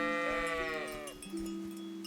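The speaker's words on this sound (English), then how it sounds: "I'm going to bring the sheep with me though." Sheep bleat in the medieval role-playing game Kingdom Come: Deliverance, a long wavering nasal call followed by a second lower bleat, close and clear over faint background noise.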